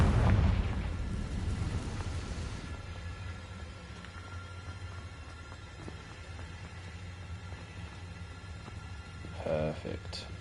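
A Confringo blasting spell explodes in Hogwarts Legacy with a loud booming burst at the start, its rumble fading into a long low roar and crackling debris, followed by a faint later pop.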